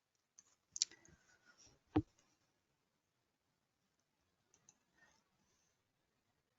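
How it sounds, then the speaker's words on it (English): Mouse clicks in engineering software, a few sharp separate clicks with pauses between, a louder one around the middle and two faint ones later, close and quiet with no talk. "Then I click here on OK."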